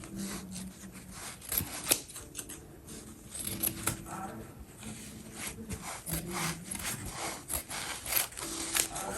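Scissors trim thick hip padding foam in repeated close, rasping snips and rubbing cuts, with a steady rhythm and no talking.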